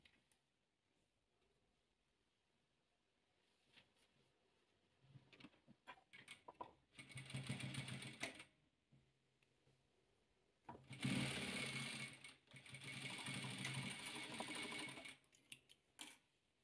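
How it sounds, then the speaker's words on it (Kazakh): A sewing machine stitches patchwork pieces in bursts: a short run, then two longer stretches of steady rapid clatter, separated by quiet pauses, close and alone. "Енді осыны осылай тігіп аламыз."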